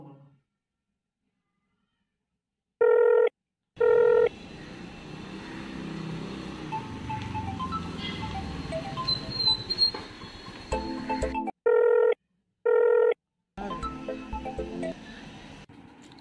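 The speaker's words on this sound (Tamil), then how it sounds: "சரி சரி பிலிப்புக்கு ஃபோன் பண்ணி இன்ஃபார்ம் பண்ணு" A telephone is used in a Tamil short film, with repeated tonal beeps in short bursts at the start and near the end, separated by a stretch of muffled background noise and rustling.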